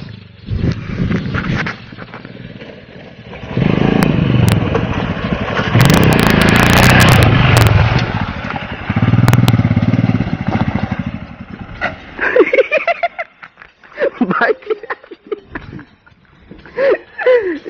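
A Royal Enfield Scram 411 motorcycle engine revs and strains in bursts while riding off-road, loud and close, with rough idling between pushes and people calling out in the background.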